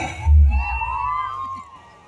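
A crowd at a Kottangal Padayani folk song performance lets out a brief loud shout that rises and fades within a couple of seconds.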